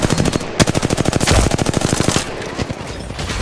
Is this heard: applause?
no